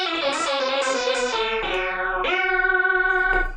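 Alesis Vortex keytar played through heavy effects, a bright, buzzy synth line of sustained chords that slide and shift pitch with chorus and echo, loud and continuous with a fluttering tremolo near the end, no voices.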